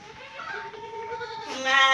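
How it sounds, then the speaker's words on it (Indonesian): Sheep bleating on an Indonesian fattening farm holding around ninety sheep, a drawn-out nasal cry rising and growing louder toward the end, close by over a steady barn background. "Untuk fattening di sini ada 90-an domba."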